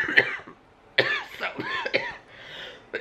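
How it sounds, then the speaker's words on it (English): A woman in a hospital emergency room coughs in a short burst, with several harsh, chesty coughs close to the microphone and a brief quiet gap before the last one. "My chest always gets so red when I start coughing like that."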